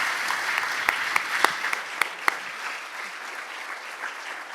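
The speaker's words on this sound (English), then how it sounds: "Let's give him a huge round of applause." Following a science medal ceremony and lecture, an audience gives steady, moderate applause for the speaker, with a few sharp individual claps standing out near the front of the sound.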